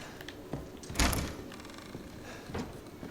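A door opening in the video game Resident Evil 7: a thud at one second followed by a rattling scrape, amid a noisy background with smaller knocks before and after.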